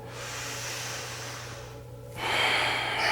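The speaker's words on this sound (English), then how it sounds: "So go ahead and take a long breath in." A long, deep breath in during a guided meditation, heard as a steady airy hiss that pauses briefly before a louder, closer rush of breath, with no talking.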